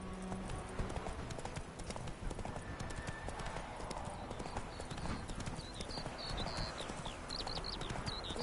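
Galloping horse hooves in The Witcher 3, a fast, steady clip-clop rhythm carrying through the whole stretch, with faint in-game ambience and brief voices behind it.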